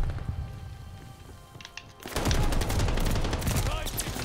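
In Call of Duty Vanguard, rapid automatic gunfire bursts out loudly after a quieter stretch of scattered shots and continues in a dense, sustained volley with muffled battlefield noise underneath.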